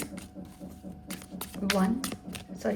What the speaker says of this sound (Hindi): now let's take out some more cards for pile number